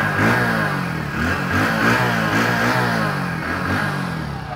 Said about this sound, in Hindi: अब मैं थ्रॉटल देता हूँ